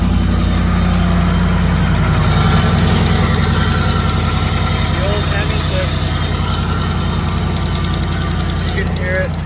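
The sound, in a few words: Hemi engine exhaust manifold leak ticking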